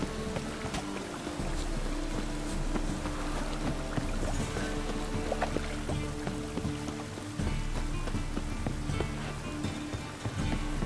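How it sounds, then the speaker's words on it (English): Steady rain in The Witcher 3 pours and patters continuously, with dense splashing and a low rumble underneath, loud and close throughout. "And it's raining again."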